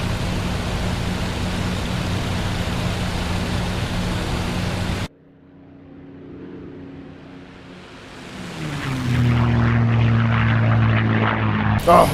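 A propeller engine of a P-51 Mustang in a combat flight game drones steadily during a climb at about 250 mph, loud and close, then drops away abruptly before building back up into a stronger, rising roar.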